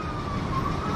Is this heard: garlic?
no